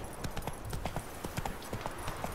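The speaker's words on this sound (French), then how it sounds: "Allez, on va galoper un peu parce qu'on n'a pas le time." A horse gallops in The Witcher 3, its hooves pounding in a quick, steady rhythm that sounds loud and close.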